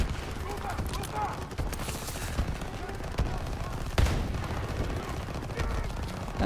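Gunfire in Call of Duty: WWII, with rapid bursts and single sharp shots crackling close by over a dense battle din, and a voice talking over the shooting.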